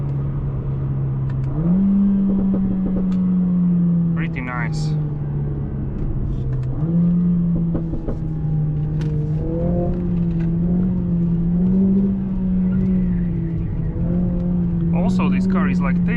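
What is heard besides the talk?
Mercedes CLA 45 S AMG exhaust pops while driving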